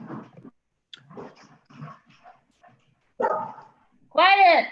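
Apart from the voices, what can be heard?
dogs barking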